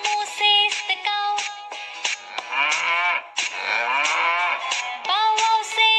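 A voice imitates a cow in a children's English poem recitation, giving a series of drawn-out, tonal moo calls in quick succession, loud and close, filling the whole stretch without background noise.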